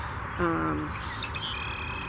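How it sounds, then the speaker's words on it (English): Birds chirp outdoors: one clear, bright call rings out briefly, then thin, high twittering follows faintly over steady background noise. "the birds are always around too"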